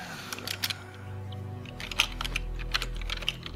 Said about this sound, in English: And I'm gonna type that to you right now.